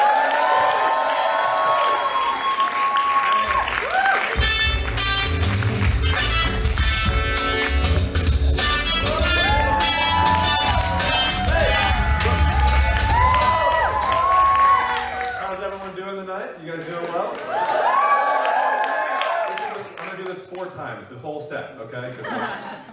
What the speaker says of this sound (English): please give a very loud, warm applause for my friend